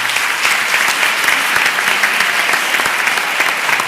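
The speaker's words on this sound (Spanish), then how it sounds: "No sé si terminar con este aplauso, porque es una buena forma de terminar" Audience applause closing a round-table discussion on tourism innovation, a steady, dense wash of clapping that holds evenly loud for the whole stretch with no voices over it.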